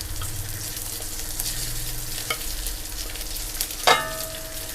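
Egg and jasmine rice stir-fried in a pan with crispy fried snakeskin gourami, a steady soft sizzle with light scraping of the spatula and a sharp metallic clank near the end.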